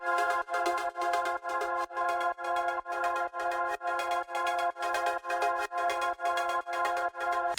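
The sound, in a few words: gated synth pad and normal pad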